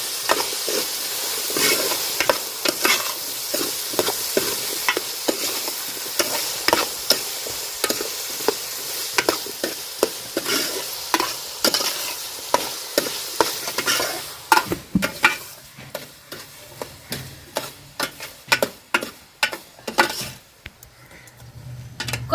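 Potatoes with salt and turmeric are stirred in a frying pan, a continuous sizzle with rhythmic scraping and clinking of the spoon against metal that grows sharper and more percussive toward the end, close and fairly loud.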